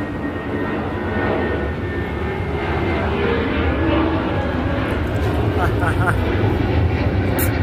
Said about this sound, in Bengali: দেখছেন, এ দেখেন বিমান আর বিমান।